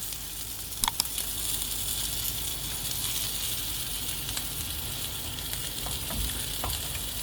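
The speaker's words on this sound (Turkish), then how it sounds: "Ekmeğin kızarmasını bekliyoruz biraz." Steady sizzling of bread topped with kashar cheese toasting in a pan for a kumru sandwich, a continuous close hiss with a few small pops and crackles.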